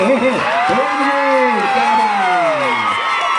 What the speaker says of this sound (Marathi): टाळ्या मात्र वाढल्या, आवाज मात्र वाढला, पाठिंबा वाढला.